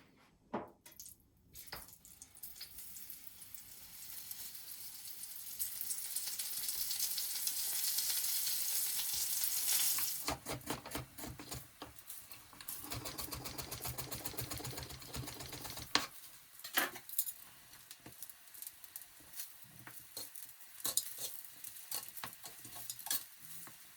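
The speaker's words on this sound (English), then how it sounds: "we need to fry off the aubergines. This is nut oil." Aubergines frying in nut oil in a cast iron pan, a steady sizzle with scraping and clattering stirring noises. It swells louder for a stretch, then settles back to a crackling hiss, with no voices.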